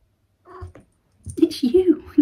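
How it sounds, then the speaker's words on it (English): A female cat gives a low growl that rises into harsh, wavering vocal bursts, close and fairly loud, after a brief quieter sound at the start, inside an echoey upstairs room. "now Willow's growling"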